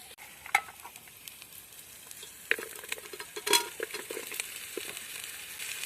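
Cauliflower florets and carrots go into a pan where peas are already cooking and get stirred, giving a soft sizzle broken by scattered scraping and clattering knocks.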